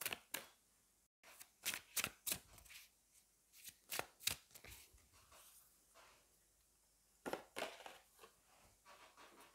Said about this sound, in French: On va aller prendre une carte du Fallen Angels pour voir justement si on a un amplificateur de tirage.